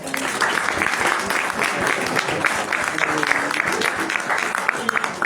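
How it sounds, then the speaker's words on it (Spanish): An audience claps for the centre director, sustained dense applause with sharp individual claps standing out, continuing steadily throughout at close range. "así que un aplauso para la directora del centro"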